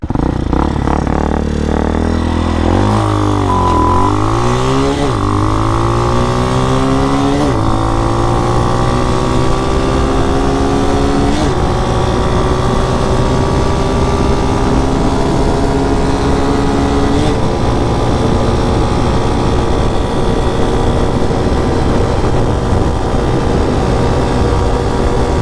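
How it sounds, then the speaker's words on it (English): A Hawk DLX motorcycle accelerates hard from 0 to 60, its engine note climbing through several gear shifts with brief dips between them before settling into a steady, loud drone at speed. "Do a 0 to 60 run here."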